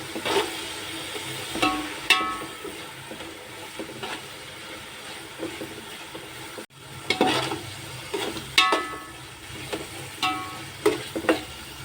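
Pav bhaji mixture with garlic paste sautéing in a pan, a steady sizzle broken by repeated scraping strokes of a spoon stirring, close and fairly loud.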